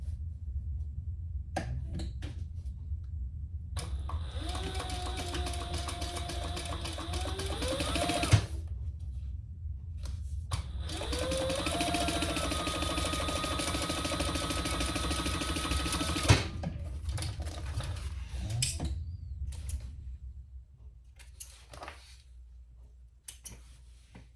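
Sewing machine top stitching and basting around a Pebble Mini Sling bag with an 18 gauge needle, running in two long steady whirring passes with brief pauses and a few handling clicks between, fairly quiet and close.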